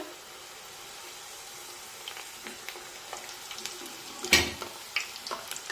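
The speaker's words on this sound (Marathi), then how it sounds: "मध्यम आचेवर दोन्ही बाजूने चकल्या छानपैकी तळून घ्यायच्या" Jowar flour chakli deep-fry in oil over medium heat, producing a soft, steady sizzling hiss with a few sharper crackles and a clatter near the end.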